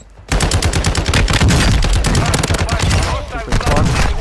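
Rapid automatic gunfire in Call of Duty Warzone 2.0 Resurgence, loud close bursts of sharp shots firing in quick rhythm after a brief quiet start, nearly continuous for several seconds.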